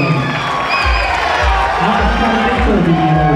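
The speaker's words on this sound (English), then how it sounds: "Let's give him a round of applause" A crowd at an OCB men's bodybuilding show keeps up a steady roar of cheering and applause, with an announcer's amplified voice over the noise.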